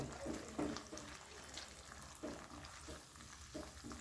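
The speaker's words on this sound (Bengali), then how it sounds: "এবার গ্যাসটাকে মিডিয়াম ফ্লেমে রেখে 2 থেকে 3 মিনিট কষিয়ে নেব" Spice masala with chopped tomato sautés in oil in a pan over a medium gas flame for a soybean curry, giving a steady close sizzle broken by a few soft stirring scrapes, with no talking.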